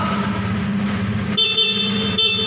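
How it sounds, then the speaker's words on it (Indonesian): A car idles with a low hum, then its horn sounds loud and close in two blasts, the second short. "Berikutnya kita cek klakson."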